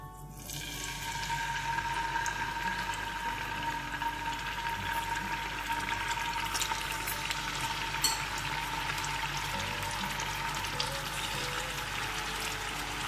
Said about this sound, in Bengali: তেলটা গরম হয়ে গেলে আমি একটা একটা করে মাছের পিস দিলাম